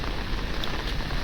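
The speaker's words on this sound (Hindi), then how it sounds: "आजकल बारिश हो रही है तो बिल्कुल रास्ता साफ़ हो रखा है।" Rain falls steadily on a mountain path as a dense, even hiss with no gaps, close and moderately loud.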